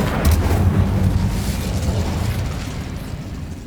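Incendio, the fire spell in Hogwarts Legacy, goes off as a loud, sustained whooshing blast with a deep rumbling body that gradually tapers over a few seconds.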